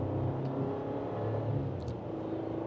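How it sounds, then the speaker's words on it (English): A 2026 Chevrolet Colorado Trail Boss pickup accelerates gently in low range gear, its engine a soft, steady low rumble heard from inside the cab, with no talk over it. "So with a minor acceleration, here we go."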